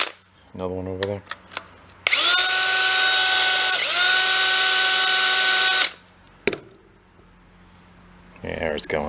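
A power drill whines at high speed for about four seconds, loud and close, while working a Yamaha Kodiak ATV part, with short bursts before and after and voices talking around it.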